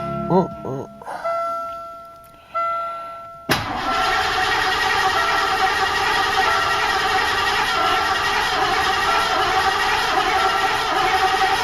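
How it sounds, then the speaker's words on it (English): A 1986 Mercury Grand Marquis engine cranks in a few uneven bursts, then catches at once and settles into a steady, loud idle; a chime sounds over the cranking. "I'm going to try to crank her over till the oil light goes off."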